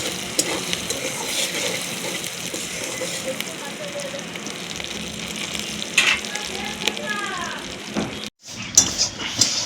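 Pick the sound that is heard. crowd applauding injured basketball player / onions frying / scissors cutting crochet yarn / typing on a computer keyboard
onions frying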